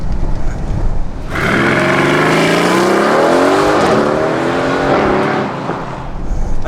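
Mercedes GLC 63 AMG SUV pulling hard on the road, engine rising steadily in pitch through a long loud acceleration, a quick shift partway, then easing off into lighter road and wind noise.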